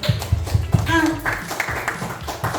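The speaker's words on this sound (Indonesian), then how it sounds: "Tepuk tangan buat semuanya." Children in a classroom clap their hands in a few quick rhythmic claps, then a teacher's voice takes over, talking with scattered light taps.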